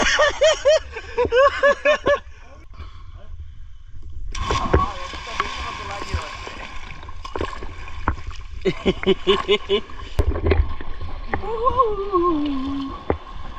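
People splash in the cold water of a natural pool in bursts of broadband spray amid laughter and excited talk.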